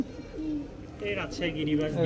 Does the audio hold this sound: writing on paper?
no